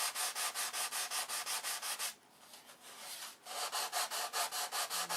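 Wood cap strips being sanded flush into the surrounding sheeting, with quick, even back-and-forth rasping strokes close up, a brief pause of softer rubbing, then the rhythmic strokes again, with no talk.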